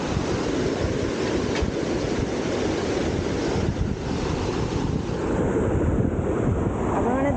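Waste water pours out of a big pipe in a continuous, loud, rushing roar that holds steady from start to finish and stays close and dominant.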